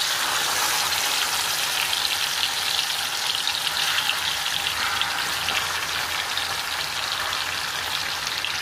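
Lamb leg pieces frying in hot ghee, a loud continuous crackling sizzle like heavy rain, steady and unbroken throughout.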